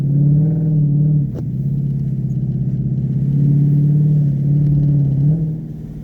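A 2016 Ford Mustang GT V8 on Bridgestone Blizzak WS80 winter tires accelerates through a slushy, icy corner, its engine a steady loud low rumble with rising harmonics, a brief sharp transient near the start, and no talking.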